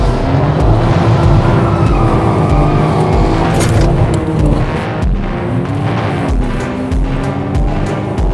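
A car with an open differential drives hard in a rally-style run in Japan, its engine roaring loud and close throughout while one wheel spins, with bursts of tyre scrabble and no voices.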